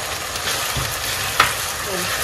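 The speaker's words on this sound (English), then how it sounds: "Mix everything completely." Corned beef cabbage stew with tomato paste, stirred in a pot over steady frying sizzle; one brief scrape of the spoon stands out midway, close by, with no talking.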